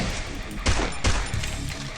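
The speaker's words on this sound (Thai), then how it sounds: "ยิงยิงปืนให้รู้หน่อยครับ" A few sharp shots crack in quick succession over noisy background sound during a match in the Free Fire video game.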